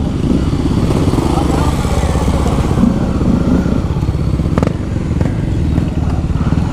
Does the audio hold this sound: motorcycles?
yes